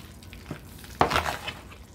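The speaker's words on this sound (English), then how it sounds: "I'm just gonna finish mixing this up" A spoon works through potato salad dressed with sweet relish and sugar, giving a few soft, close scraping and squelching strokes, with one louder stir in the middle.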